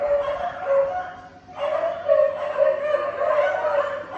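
Dogs barking at a kennel, a steady chorus of yips and barks overlapping continuously, with a brief lull before the noise swells again.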